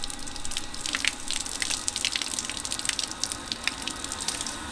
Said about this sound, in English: if I turn down the water flow to super low